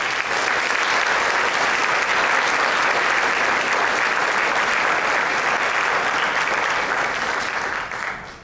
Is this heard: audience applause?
yes